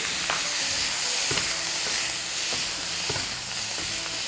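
Cabbage and carrot shreds with garlic and shallot sizzle steadily in a flat frying pan as chopsticks toss them, a constant close hiss broken by soft clicks and scrapes every second or so.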